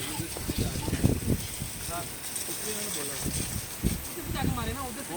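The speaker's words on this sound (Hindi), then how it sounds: "बहुत प्रेशर से पानी आ रहा है" High-pressure waterfall water gushes and sprays steadily beneath a motorbike's engine on a mountain road toward Babusar Top, a continuous close hiss with someone talking over it throughout.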